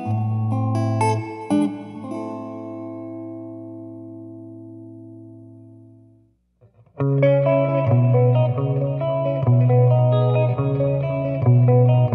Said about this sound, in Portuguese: esse timbre que vocês estão ouvindo aí é o Clean Chords, acordes limpos